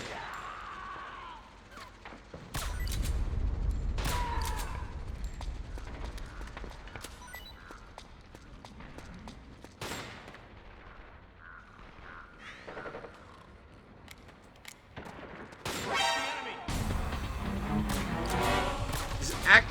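Gunfire crackles through a Metal Gear Solid 4 firefight on PS3, with repeated sharp bursts and impacts scattered across a loud, busy battle mix as local forces and guards trade shots.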